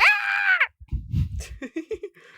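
A voice imitates a screech owl with a loud, high, wavering screech held for over half a second. Low grunting and short vocal bursts follow.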